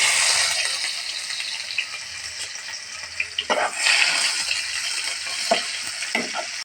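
Chopped onions fry in soybean oil, a bright, steady sizzle close by, broken by a few scraping stirs of the pan and no talking.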